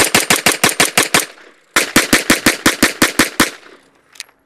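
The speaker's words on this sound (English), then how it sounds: "let's go to the range and shoot this magnificent pistol for accuracy" A Wilson Combat Vickers Elite pistol fires at a shooting range in two quick strings of about eight sharp, loud shots each, rapid and evenly spaced, then a single fainter report after a pause.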